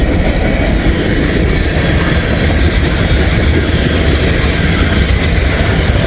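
Freight train with a distributed power (DPU) locomotive passing close by, a steady loud rumble of wheels and cars with faint clickety-clack throughout.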